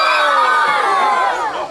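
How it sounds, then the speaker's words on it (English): Children shout and scream together at a reptile show, a loud, continuous burst of high excited voices filling the room with no pause. "No screaming at the animal."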